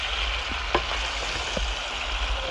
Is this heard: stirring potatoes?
yes